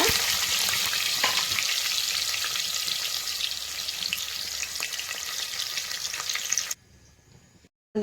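Onions fry in two spoons of oil with cloves, cardamom and cinnamon for a pulao, a dense close sizzle that runs steadily, then drops away abruptly near the end before a brief return.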